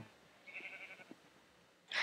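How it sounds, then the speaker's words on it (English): Sheep in a video game superflat world give a short bleat and then a brief sharper cry. Both sound thin and moderately close, with near-silence around them. "Oh, by the way, I brought these sheep."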